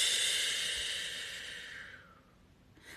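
A slow, steady exhale during a paced breathing exercise, a soft airy hiss that gradually fades over a few seconds, close and alone with no talking.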